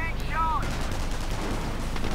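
Gunfire and an MG42 machine gun in a video game crackle in dense, continuous bursts, with a brief whistling tone near the start. Commentary runs over the battle noise.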